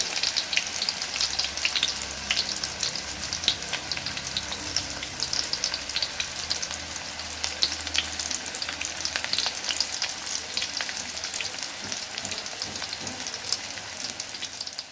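Mandai, the fermented cempedak-skin dish of Kalimantan, frying in oil in a wok, a steady dense sizzle with crackling pops running the whole time, close and fairly loud, no voices.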